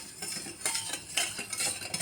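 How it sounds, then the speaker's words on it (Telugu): Sugar stirred into cold water in a bowl with a spoon, quick scraping and clinking strokes repeating close by, quiet, no talk. "ఇప్పుడు మిక్స్ చేద్దాం"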